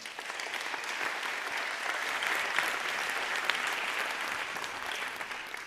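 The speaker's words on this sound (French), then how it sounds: "Vous pouvez l'applaudir, lui aussi." Audience applause at a closing speech for a speaker coming on stage, a dense, steady clapping that fills the whole stretch at moderate loudness, with no voices above it.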